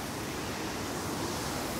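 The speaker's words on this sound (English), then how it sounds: "I can hear something, sounds like running water." A small waterfall in Sri Lankan jungle rushing steadily, a dense even wash of running water that stays constant and fairly close, with no voices.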